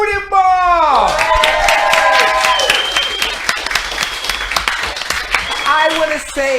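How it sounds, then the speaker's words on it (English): Audience applause fills the hall at the live final of a 2021 video games contest, steady loud clapping with cheers and whistles from a large crowd, swelling after an opening tone and holding throughout. "I want a loud round of applause for Loading Bar."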